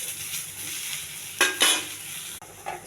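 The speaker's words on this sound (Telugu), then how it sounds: "పుదీనా అండి, ఇది నూనె ఏమి వేయకుండా ఒక పెనంలోనే వేయించాలి." Mint leaves and green chillies dry-roast in a pan without oil, a steady rustling sizzle broken by a few louder stirring sweeps of the spatula and a brief clink.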